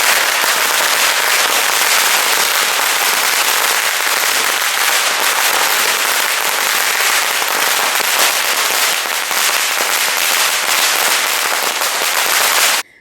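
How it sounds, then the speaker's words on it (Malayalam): Firecrackers burst in a dense, unbroken crackling barrage during a street celebration of a chief minister's swearing-in, loud and sustained for the whole stretch before cutting off abruptly. "മുഖ്യമന്ത്രിയായി വി ഡി സതീശൻ സത്യപ്രതിജ്ഞ ചെയ്തതോടെ പടക്കം പൊട്ടിച്ചും പായസ വിതരണവുമായി പ്രവർത്തകർ സജീവമായി."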